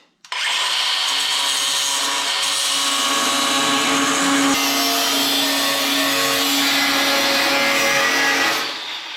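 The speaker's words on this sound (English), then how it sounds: "So I just cut a couple pieces of plate out of that old frame" A power tool cuts and grinds steel plate from an old truck frame, a loud, unbroken high-pitched whine that holds steady for nearly the whole stretch before easing off at the end.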